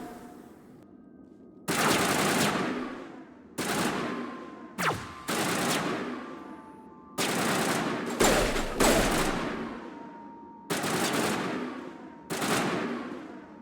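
Bursts of rapid automatic gunfire from the Mass Effect video game come in repeated loud volleys of a second or two, separated by short quieter pauses.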